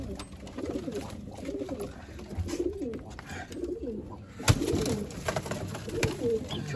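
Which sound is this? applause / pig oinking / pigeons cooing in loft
pigeons cooing in loft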